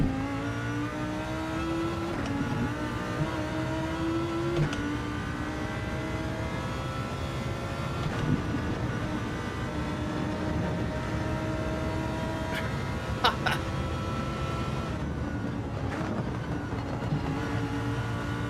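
Car engine in a racing video game, droning steadily with rising and falling harmonic whine as it revs, loud and continuous throughout with no talk.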